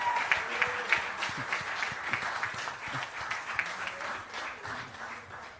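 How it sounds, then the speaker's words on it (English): A conference audience applauds steadily, a dense patter of many hands clapping at moderate volume that continues throughout. "Can we have a resounding round of applause for our legacy partners, please?"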